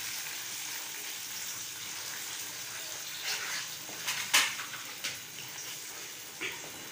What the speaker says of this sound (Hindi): और इसको अच्छे से भून लेंगे जब तक कि इसमें से ऑयल सेपरेट नहीं हो जाए।